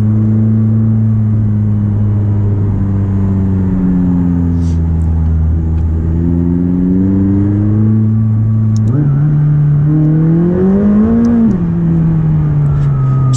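McLaren 600LT engine under way, a loud close droning exhaust note rising and falling through several revs and gear changes, steady and continuous with no talk.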